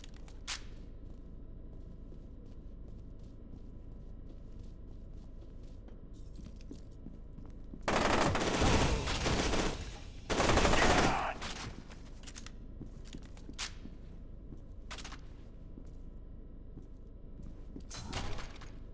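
Shotgun blasts and gunfire in the first-person shooter F.E.A.R. 2: Project Origin, two loud bursts of roughly a second each midway through, with a few sharp clicks scattered over a low background hum.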